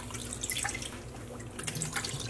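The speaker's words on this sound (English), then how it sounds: "I am going to transfer this fiber into some lukewarm water." Fiber, a merino and silk blend roving, is lowered into lukewarm water, giving soft splashing, trickling and dripping sounds, close and quiet, with no talking.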